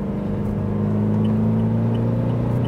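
A Toyota Fortuner GR Sport with a 2800cc diesel engine pulls under light throttle, giving a steady, loud low engine drone with a strong rumble that holds across the whole stretch and has no talk over it.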